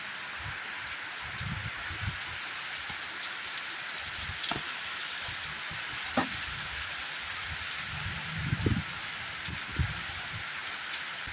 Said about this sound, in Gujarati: અત્યારે જૂનાગઢમાં જોરદારનો વરસાદ વરસી રહ્યો છે